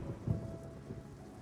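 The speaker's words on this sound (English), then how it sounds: "and there's a storm coming in." A thunderstorm with steady rain rolls through the DayZ video game world, a low rumble of thunder swelling briefly under the continuous hiss of rainfall.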